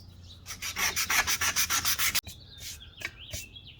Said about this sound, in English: There's still more sanding to do